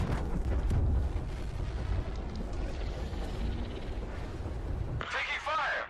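Continuous rumbling booms and weapon fire fill a space-combat scene in the game Star Citizen, with a dense, loud low roar that cuts off abruptly before a voice and a sweeping tone take over.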